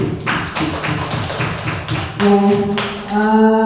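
An audience at a teachers' training session gives a brief round of applause, a few close, sharp claps followed by a short ringing musical tone.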